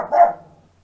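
A single short, loud dog bark close by, quickly fading out, with no talking over it.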